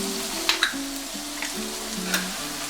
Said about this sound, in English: after 2 minutes, we stir it up a little bit